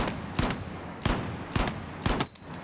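M357 pistol fired from the hip in Battlefield 6, four sharp evenly spaced shots about half a second apart over a steady background of game ambience.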